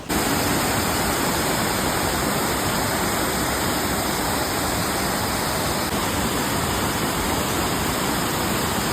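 Steady, loud rush of water pouring over mossy rocks at Irpu Falls, a continuous broadband waterfall roar with no break or voices throughout.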